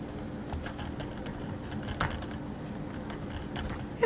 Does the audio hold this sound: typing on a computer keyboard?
yes